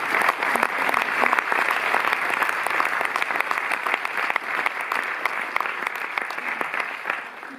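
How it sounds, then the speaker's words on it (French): An audience claps steadily and enthusiastically for several seconds at a film presentation at the Cinémathèque in Paris, a dense, even wash of applause with no talking over it. "On va applaudir les 3 premiers."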